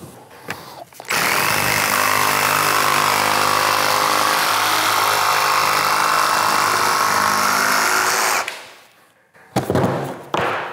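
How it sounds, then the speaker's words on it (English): A jigsaw cuts through a tongue-and-groove vinyl plank floorboard, a loud, continuous buzzing whine that runs for about seven seconds between brief handling thumps before and after. "Jigsaw cuts right through it."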